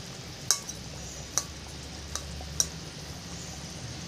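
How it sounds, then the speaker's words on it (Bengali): Fish curry simmers quietly in a pan over low heat, a soft steady bubbling bed broken by light metal clinks of a spatula against the pan about once a second. "একটু আস্তে আস্তে জাল দিচ্ছি যাতে ঝোলটা তাড়াতাড়ি কমে না যায়।"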